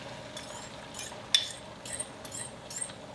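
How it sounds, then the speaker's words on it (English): Eggs sizzle in a hot pan on a stovetop, a soft steady hiss with faint crackles and a few sharper pops scattered through it. "you could hear some sizzling action"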